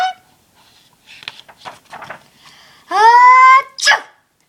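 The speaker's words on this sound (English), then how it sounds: "Sneezing. Oh no." A loud, close sneeze bursts out after soft shuffling sounds, preceded by a drawn-out whining inhale and ending in a sharp explosive puff.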